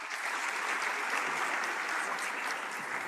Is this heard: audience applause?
yes